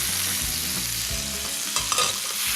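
Frozen peas tossed with softened shallots in a hot frying pan, giving a loud, steady close-up sizzle with stirring and a couple of brief utensil clinks near the end, no voices.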